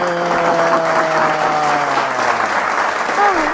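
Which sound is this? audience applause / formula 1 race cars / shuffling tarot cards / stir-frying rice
audience applause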